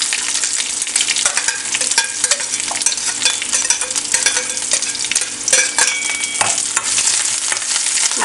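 Chopped onions frying in a pan with shrimp and green tomato, a bright continuous sizzle broken by repeated scraping stirs, close and loud with no talking.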